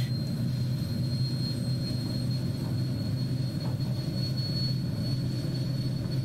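HondaJet jet engines roaring steadily during a takeoff roll, a dense, constant low rumble with a thin high whine running on top, close and loud throughout with no pauses.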